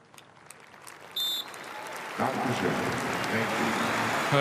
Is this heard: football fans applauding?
yes